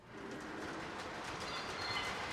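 Model F unit locomotives pulling a Penn Central boxcar roll past with a steady, close rumble and a rapid, light clickety-clack of wheels over rail joints.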